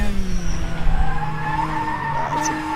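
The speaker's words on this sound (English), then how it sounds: "That's a big oversteer moment." Race car tires skidding through an oversteer moment at Sebring in a sim racing game, a loud sustained squeal with the engine note underneath, shifting in pitch over a few seconds.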